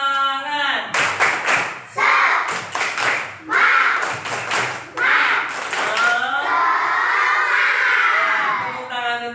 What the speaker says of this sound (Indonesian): kita lakukan tepuk semangat dulu ya